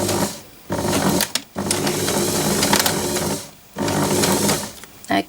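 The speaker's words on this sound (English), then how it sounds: "I'm going to do a couple of stitches forward and a couple of stitches backwards, just to start my seam off" A sewing machine stitches a seam in a fabric cushion boot, running in bursts of steady mechanical whirring with short pauses between, close and loud, a few stitches forward then back at the start of the seam.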